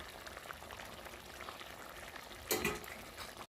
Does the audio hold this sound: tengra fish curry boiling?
yes